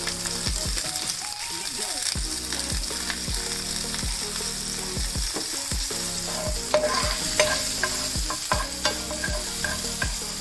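Hing and finely chopped ginger sizzle steadily in hot oil over a reduced flame, with regular stirring scrapes and clinks of a spoon against the pan, close and continuous throughout.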